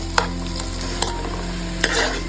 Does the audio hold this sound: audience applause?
no